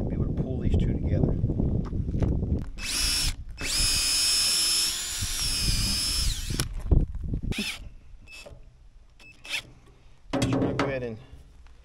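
A power drill whines driving into wood for a roof rafter in a sustained burst lasting a few seconds, followed by shorter spurts, with someone talking before and between.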